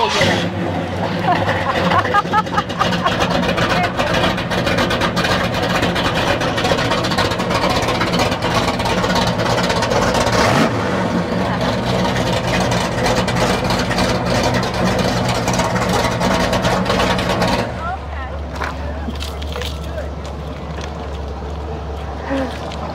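A loud, close classic car engine at a car show roars and runs rough with deep rumbling, holding high for a long stretch before dropping to a quieter idle toward the end.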